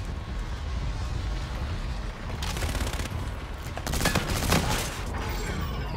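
Rapid automatic fire from the Osa rifle in Call of Duty Infinite Warfare multiplayer, with loud dense bursts over a continuous rumbling game soundscape, heaviest in the second half.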